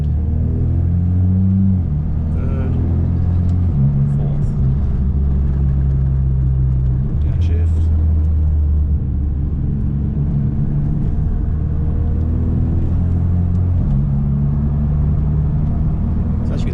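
An automatic Mitsubishi Lancer Evo X pulls away from close by, its engine note climbing and then dropping at each smooth upshift, several shifts in a row over a low rumble.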